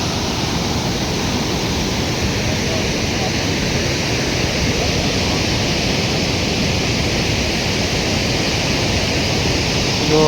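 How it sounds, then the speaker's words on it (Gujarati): A waterfall near Quebec City roars up close as a steady, dense wash of falling water, loud and unbroken throughout with no pauses. "એકદમ નજીકથી આ ધોધ બતાવું છું. જુઓ, એનો અવાજ એટલો પણ છે."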